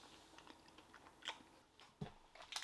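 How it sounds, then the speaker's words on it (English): Quiet close chewing of an organic almond nutrition bar, soft irregular crunches and bites spread across a few seconds, faint and with no talk. "the slight crunch of the almond"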